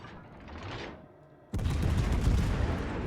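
Naval guns firing HE shells in World of Warships: Legends, a heavy booming salvo that starts abruptly partway through and rumbles on loudly after a quieter lead-in, with no talking.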